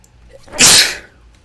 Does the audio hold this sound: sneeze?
yes